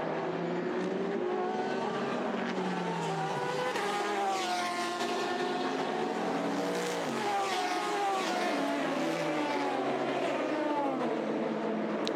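Race cars at the 2019 24 Hours of Le Mans on the 13.626 km circuit give a constant loud engine roar, with rising and falling pitch as cars pass. A commentator's voice may sit faintly underneath.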